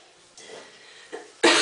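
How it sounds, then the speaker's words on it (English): A pregnant woman gives a short cough. It starts with faint breathy sounds and ends in one loud, abrupt close burst. "Still coughing and gagging"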